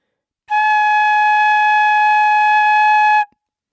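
A single sustained, breathy whistle-like tone from a flute head joint alone holds steady for nearly three seconds, then stops abruptly; bright and close with no talking.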